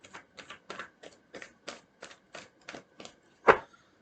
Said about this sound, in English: I always continue the shuffle so I can read the bottom of the deck